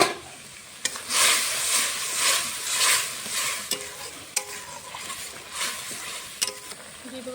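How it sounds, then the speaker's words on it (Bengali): Spice paste with chopped onion and garlic sizzling in a pan for a fish curry, a bright frying hiss that swells and fades in waves, punctuated by sharp scraping knocks of a stirring spoon. "মশলাটা এখন ভালো করে কষিয়ে নেব"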